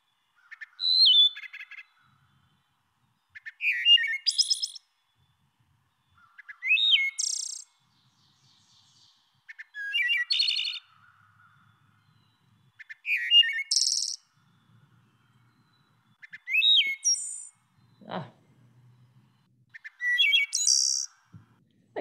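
A wood thrush sings in a quiet woodland, repeating clear, flute-like phrases that end in buzzy trills, each phrase a second or two long, spaced by short pauses, heard alone and fairly close.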